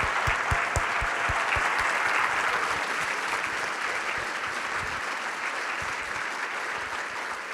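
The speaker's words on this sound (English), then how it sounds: "Can we just first give a big round of applause to the U.S. Water Alliance team and to Ashley Stagg and her team" Conference attendees at a water summit give the organizing team a big round of applause, a full, sustained crowd clapping that stays strong and continuous, easing only a little toward the end.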